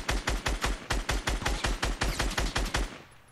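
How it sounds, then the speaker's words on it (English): Rapid assault rifle fire in Fortnite Battle Royale, a tight rhythmic string of about twenty punchy shots at an even pace, loud and close, ending abruptly into quiet. "Just give me 1 second to shoot with my AR and lay some shots down."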